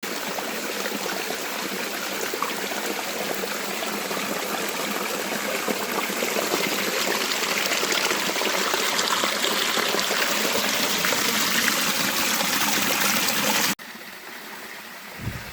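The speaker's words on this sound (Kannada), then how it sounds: "5 to 8 ಫೀಟಿಂದ ಬೀಳ್ತಾ ಇದೆ ಈ ಫಾಲ್ಸು" A small waterfall at Ramadevara Betta near Tumkur, dropping roughly five to eight feet, pours in a steady, close, broadband rush of falling water that continues without a break before cutting off abruptly near the end.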